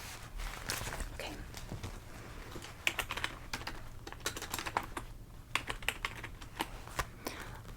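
Steady typing on a computer keyboard in a quiet setting, quick soft key clicks in irregular bursts throughout, close and fairly quiet, with a faint low hum behind.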